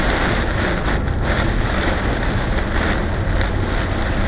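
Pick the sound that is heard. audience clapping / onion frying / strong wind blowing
strong wind blowing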